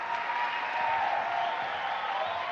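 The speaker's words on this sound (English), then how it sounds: "Big round of applause, come on." A brief burst of steady, dense applause from an audience at an Erasmus+ event in Spain, even and continuous across the short stretch, with no voice over it.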